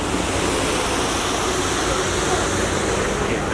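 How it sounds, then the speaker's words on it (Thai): Steady rain falling outdoors at a bus stop in Japan, a continuous broadband hiss with no breaks, fairly loud and close, with faint voices mixed in. "แต่ฝนมันตกไง"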